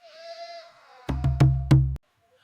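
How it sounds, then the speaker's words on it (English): Goats bleat in a short burst of several loud, close cries in quick succession as they cross a road, with a faint higher voice just before. "goats were crossing the road"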